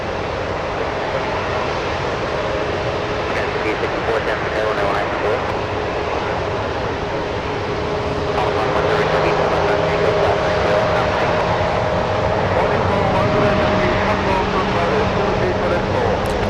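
United airliner spooling up and taking off from Runway 1 right at San Francisco International Airport, a steady roar of jet engines that swells louder partway through, heard from a distance.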